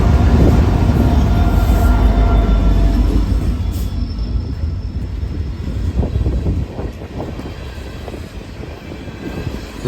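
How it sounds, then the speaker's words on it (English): A long CN mixed freight train accelerating past a station toward the St. Clair Tunnel, a heavy rumbling roar of locomotives and rolling cars that is loud at first, then eases slightly as the train moves off, with no voices. "It was really cool watching the huge train start picking up speed into the St. Clair Tunnel to build enough momentum to beat the grade to Port Huron, Michigan."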